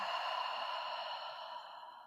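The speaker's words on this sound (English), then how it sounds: "Breathing out." One slow, steady out-breath in a morning yoga flow, soft and close, gently tapering as it ends.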